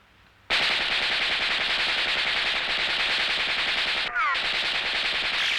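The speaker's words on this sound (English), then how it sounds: "there's a machine gun standing next to the camera" Cartoon machine gun firing in a long, dense, unbroken rattle of rapid shots, loud and close, with a brief break and a whistling ricochet-like sweep before the burst resumes.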